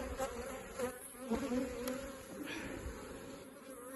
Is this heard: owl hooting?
no